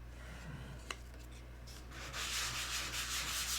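Wood being sanded by hand with steady rubbing strokes, quiet at first and then a louder, denser scratchy friction in the second half, with no voices.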